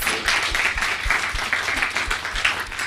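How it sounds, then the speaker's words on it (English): An audience applauds panelists at an event on education and employment for young people with disabilities, with distinct claps standing out within a broad, steady wash of clapping. "Can we give a big round of applause to our panelists, please?"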